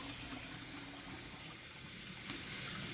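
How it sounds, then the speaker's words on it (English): Tap water runs steadily into a kitchen sink during handwashing with soap after handling raw burger meat, a faint, even splashing rush with no talk over it. "Now we wash our hands because we got raw meat on them"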